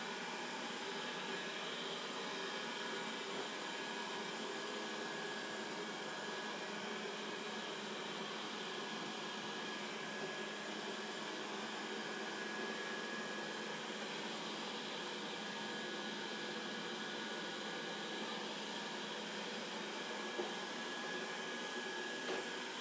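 A Dreame D10s Pro Plus robot vacuum cleaner runs with a steady, even whooshing hum and faint whine, constant in level throughout, near and alone, its rotating brush slowed while it skirts a cable.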